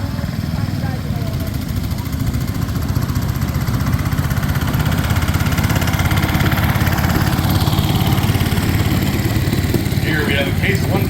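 A 1968 Case 155 10-horsepower garden tractor engine idles steadily at close range, a continuous low chugging rumble that holds an even level throughout.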